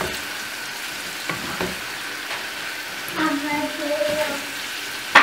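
Meat and onions sizzle in a pan while plov cooks, a steady soft frying hiss with a few stirring clatters and a brief bubbling spurt near the end.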